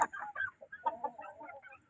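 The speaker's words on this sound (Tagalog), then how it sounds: "dito nandito yung mga ah, manok na 3 month na dyan" Three-month-old chickens in a pen give a run of close clucks and chattering calls over two seconds, with no talk.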